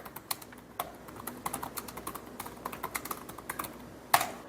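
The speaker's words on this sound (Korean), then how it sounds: "지금처럼 타자를 쳐주시면 돼요" Typing on a laptop keyboard: a steady run of quick, light key clicks at an even pace, close by, ending with one sharper louder tap.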